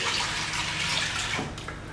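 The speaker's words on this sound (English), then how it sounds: "And add to that 480 ml of cold water." Cold water poured into a pot for dal curry, a close, continuous rushing gush that runs steadily and then eases slightly near the end, with no voices.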